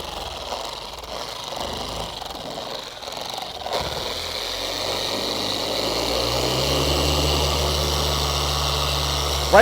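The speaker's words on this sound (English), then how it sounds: "Right between the 3rd and the 4th speed setting on the polisher" A car paint polisher with all-in-one pads, set between its third and fourth speed, works on soft black paint, giving a steady motor whine that grows louder and settles into a constant drone after a few seconds of handling noise.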